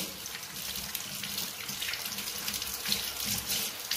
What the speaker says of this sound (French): Hop, on rince, on n'hésite pas à rincer.